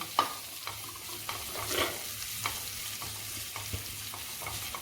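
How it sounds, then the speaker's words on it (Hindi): Finely chopped green chillies frying in oil in a pan for stuffed chilli pakoras, with a steady close sizzle broken by several sharp scrapes and clinks of a stirring spoon; no voices. "बारीक कटी हुई हरी मिर्च है वो डालकर हम अच्छी तरह से भून लेंगे"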